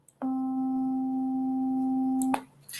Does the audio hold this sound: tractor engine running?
no